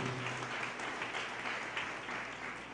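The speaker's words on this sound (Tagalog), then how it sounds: "Pumalakpak ng malakas sa ating Diyos." Congregation at a JMCIM church service claps loudly in praise, a sustained, even wash of many hands clapping with no voices over it.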